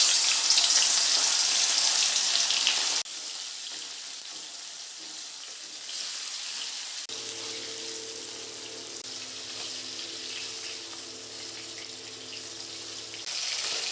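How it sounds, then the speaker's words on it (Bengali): Salt-and-turmeric marinated fish pieces frying in hot oil, giving a loud, steady sizzle that drops to a quieter crackle with a faint low hum underneath and a brief rise at the end, with no voices. "মাছগুলোকে এবার ভেজে নেব।"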